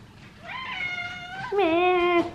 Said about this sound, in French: Regardez cette drama queen qui miaule à la mort parce qu'elle veut sortir alors qu'il pleut